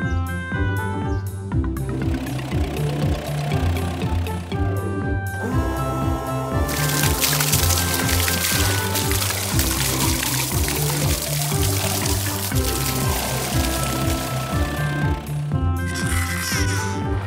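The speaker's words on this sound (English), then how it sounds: "Let's pour some blue cement in here." Cartoon sound of blue cement pouring from a mixer truck into foundation holes: a soft, continuous gushing pour running under bright, steady background music.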